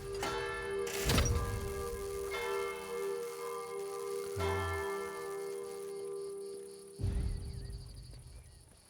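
Large bell tolling in the video game Sniper Elite Resistance, struck loudly twice with long ringing decay, over a steady sustained tonal background.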